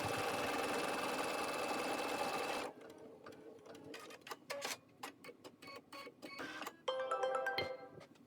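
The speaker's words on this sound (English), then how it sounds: "first I went to my embroidery machine, and on the back of the jean, I put Love Mom on it" An embroidery machine stitches a design onto the back of a pair of jeans, running in a steady, close mechanical whir that breaks into busy, irregular clicking and tapping bursts as the needle works.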